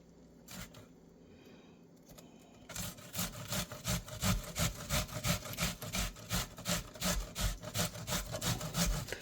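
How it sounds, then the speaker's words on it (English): Food being grated by hand for game night hamburgers: after a few scattered scrapes, a fast rhythmic run of close rasping strokes sets in, each stroke a rough scratchy pass, repeating evenly to the end. "it's a bit hard on the eyes because you are grating and all that juice is coming out"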